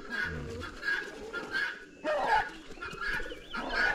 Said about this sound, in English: There's a lot of chicken, here, uh, big cocks